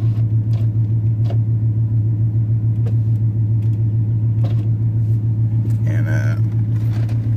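An old GMC OBS pickup truck rolls down a road with a steady low engine drone and rumble, loud and close from inside the cab, while someone briefly speaks over it.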